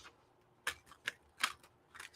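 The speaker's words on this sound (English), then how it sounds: "All right, Rachel, let's shuffle." A deck of tarot-style cards is shuffled by hand, giving a few soft, crisp riffling bursts spaced irregularly, faint and close with no talking.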